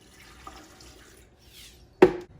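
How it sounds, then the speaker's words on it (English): Two cups of water pour into a blender for a spinach, flax seed and fruit smoothie, a quiet trickle followed by one brief, loud splash. "Let's add our 2 cups of water"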